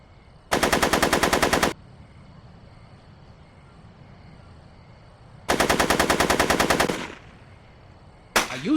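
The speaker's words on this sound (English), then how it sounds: "Are you shooting at me?" Automatic gunfire in a Back to the Future video game: two long rapid bursts of about a second each, then a brief third burst starting at the end, loud and clear over a low quiet background.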